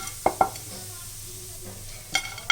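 Roasted gram is dry-roasted lightly in a pan: quiet background crackle with a few sharp stirring knocks and scrapes, two close together early and more near the end.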